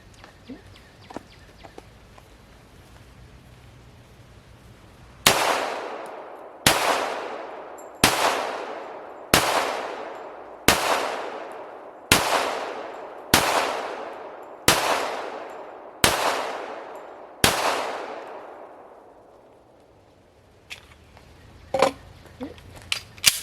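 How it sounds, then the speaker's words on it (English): HK45 .45 caliber pistol fired outdoors, about ten loud close shots at an even, unhurried pace, each with a ringing decay, preceded and followed by quieter handling sounds. "So this gun shoots really well."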